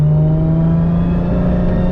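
A 1000+ horsepower MKIV Supra with a sequential three-speed transmission drones loud and close, its engine holding a steady, buzzing tone throughout the short moment without any audible break, and nobody speaks.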